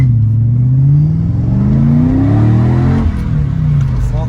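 Mercedes CLK55 engine, after a limp mode fix, revving hard at full throttle, a loud close deep roar rising and falling in pitch over a few seconds.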